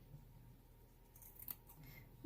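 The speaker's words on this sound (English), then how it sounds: "these scissors are not good at cutting these sequins" A few quiet snips of scissors cutting through sequin material, with a soft crisp crunch near the end against faint background noise.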